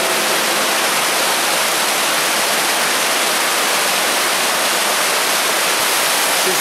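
Water cascades down stepped terraces inside a Moscow underground drainage sewer, a steady, loud, broadband rush that fills the space without pause and with no voices.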